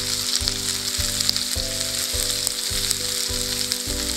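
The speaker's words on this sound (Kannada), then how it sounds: "ಈರುಳ್ಳಿ ಹಾಕಿಬಿಟ್ಟು ಒಂದು ಎರಡು ನಿಮಿಷ ಫ್ರೈ ಮಾಡಿ ಚೆನ್ನಾಗಿ." Sliced onions frying on a high flame for egg Manchurian, a loud, steady sizzle with a low, rhythmic pulsing hum running underneath throughout.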